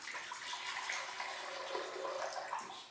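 Organic coconut water pours steadily into a blender jar for a breakfast shake, a continuous close splashing trickle lasting throughout with no talk over it.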